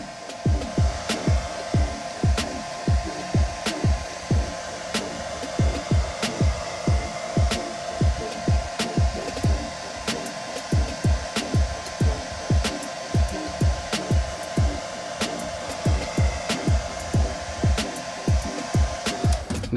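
A heat gun softening the glass adhesive on a Galaxy S20 Ultra screen, a continuous loud blowing whoosh with a steady rapid pulsing rattle throughout, no talking.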